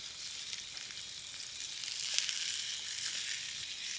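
Cauliflower and eggplant sizzle steadily in a pan over a campfire, a dense continuous hiss that swells slightly partway through, with no voices.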